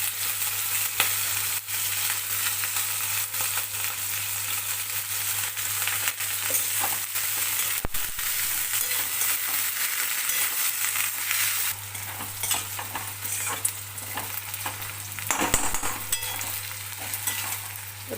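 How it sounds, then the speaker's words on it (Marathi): Onion and okra fry in hot oil, a steady close sizzle that runs on and on, with a few stirring scrapes and a louder, busier stretch toward the end. "तेलात सगळ्यात आधी कांदा आणि ही भेंडी"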